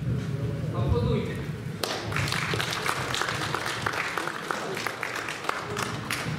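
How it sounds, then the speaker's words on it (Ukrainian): Applause from a seated audience at a beekeepers' union council meeting in Kyiv, starting abruptly and running steadily as dense, evenly textured clapping with occasional sharper claps near the end. "Аплодуйте."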